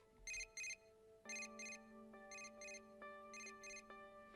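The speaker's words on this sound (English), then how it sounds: "A familiar ringtone sounds from my cell phone inside the bag." A cell phone ringtone from the game Persona 4: Dancing All Night plays alone, a bright repeating melody of short paired chirps over a steady tonal backing, loud and close for about four seconds.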